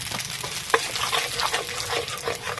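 Turmeric and Kashmiri chili powder hitting hot oil and being stirred in a pan, a loud continuous sizzle close by with scraping strokes of the spoon running through it.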